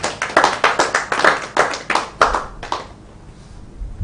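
Round of clapping from a small crowd at a live-streamed cultural event, about a dozen distinct near claps in a steady rhythm for under three seconds before fading to quiet.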